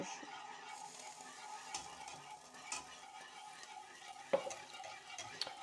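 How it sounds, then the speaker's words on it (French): Milk is stirred into a thick paste in a pan for salmon lasagne, giving a quiet, soft scraping and swishing with a faint sizzle and an occasional utensil knock. "on va venir rajouter le lait. Et on mélange"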